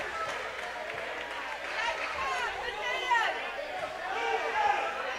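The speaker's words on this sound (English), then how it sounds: "Big, loud Leake crowd around us on all sides." Loud crowd of Leake Academy fans at a high school basketball finals game, a dense steady roar of chatter and cheering filling the gym with shouts rising and falling throughout.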